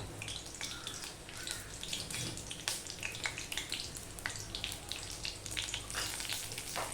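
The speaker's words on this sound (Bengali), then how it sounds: "আমি ফোড়ন দিয়ে দেবো হাফ চামচের মতো পাঁচ ফোড়ন সেটা আমি দিয়ে দিলাম দিয়ে দিলাম একটা তেজপাতা" Panch phoron spices and a bay leaf sizzle in hot oil in a home kitchen, a constant crackling hiss with sharp pops scattered throughout, fairly soft and close, no voices.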